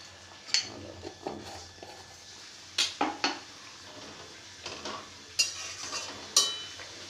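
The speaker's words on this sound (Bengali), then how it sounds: "চিনিটা নাড়াচাড়া করে" Spoon stirring sugar in a frying pan while cooking a vegetarian papad dalna: close, intermittent scraping and light metallic clinks with a few sharper taps, spread irregularly over a faint kitchen hum.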